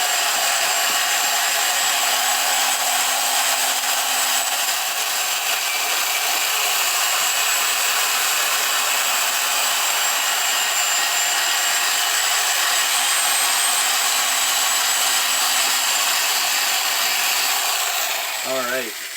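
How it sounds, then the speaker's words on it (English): Loud, continuous high-pitched whine of a drill spinning a grinding stone to clean a metal Chevrolet C4 Corvette suspension part, holding steady for the whole stretch before winding down at the end. "I have a stone on my drill, so I'm going to go ahead and just lightly clean that up."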